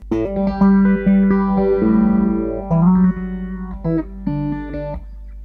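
Electric guitar played through an MXR Phase 90 phaser pedal, loud and close, with sustained chords and notes sweeping in a swirling, shifting tone, no talking over it.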